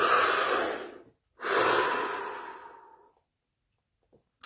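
Close, audible breathing during a calm guided session: a long airy exhale, a brief pause, then a second long, drawn-out breath that fades out, with no talking over it.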